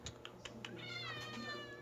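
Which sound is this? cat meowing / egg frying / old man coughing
cat meowing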